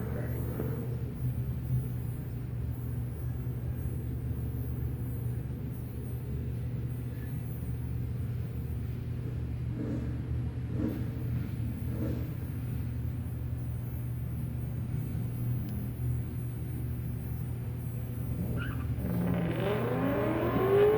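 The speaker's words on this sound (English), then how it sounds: "In the 2013 Boss Mustang." A 2013 Ford Mustang Boss in a drag race sends up a steady, fairly distant engine drone that builds slightly toward the end, with no voices over it.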